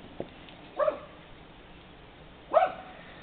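Small dogs give two short, sharp yaps about two seconds apart, fairly faint and set against a quiet room.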